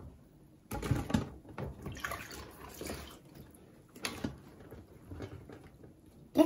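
Chili peppers being washed in a basin of water for kimchi, with close splashing, sloshing and dripping that comes in uneven bursts as the peppers are stirred and lifted, and no talking.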